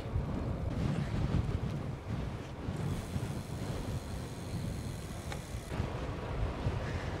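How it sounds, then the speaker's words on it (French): Steady wind rushing and buffeting over the microphone of a cyclist riding on the road, a broad constant roar with no speech. "Là j'ai le vent qui arrive de là."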